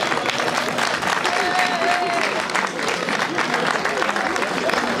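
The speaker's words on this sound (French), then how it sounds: "On peut les applaudir." An audience at a community running race event claps in thanks, a dense continuous patter of applause from a crowd outdoors with voices mixed in.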